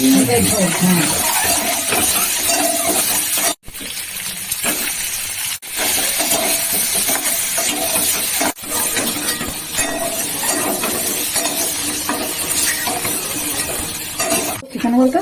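Spices frying in hot oil for an egg curry, a dense crackling sizzle that runs steadily throughout, cut by a few brief drops, with a person talking over it.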